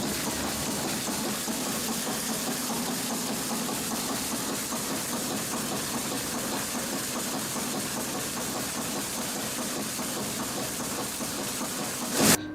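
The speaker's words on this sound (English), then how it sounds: "Now place it to shaker machine." A sieve shaker machine runs with a coarse aggregate sample loaded for an abrasion and impact test, giving a steady, loud mechanical rattling drone that continues unbroken before a sharp knock right at the end.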